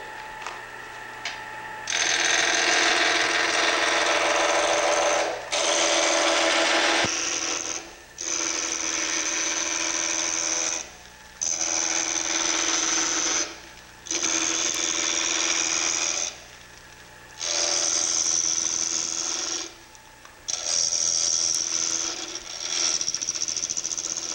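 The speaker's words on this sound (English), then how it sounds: "So I use a bowl gouge a lot." Bowl gouge cutting a hollow wooden ornament on a lathe, a loud, close, scraping hiss in repeated multi-second passes broken by brief pauses, over the low steady hum of the lathe motor.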